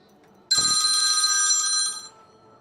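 A telephone rings once in a bright, steady electronic trill lasting about a second and a half, fairly loud and alone after a quiet start, then cuts off.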